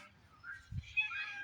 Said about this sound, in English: There's my rowdy kitten.